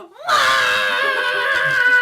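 Loud, sustained scream from several voices, rising in a quick swoop and then held steadily for about two seconds, alone with no talking.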